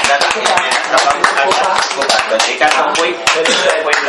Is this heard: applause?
yes